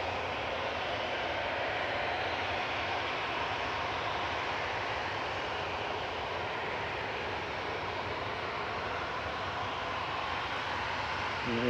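A Qatar Airways airliner landing at Manchester Airport: a steady, loud, broadband jet roar that holds throughout without breaks, heard with no talking.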